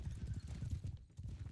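A horse's hooves clip-clop in a video game, a quick run of rapid, muffled beats, short and fairly faint.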